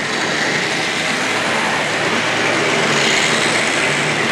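A Hornby Triang model train pulling eight long continental freight wagons and a Canadian Pacific Railroad caboose runs in a steady, loud, continuous whirring rumble with no voices.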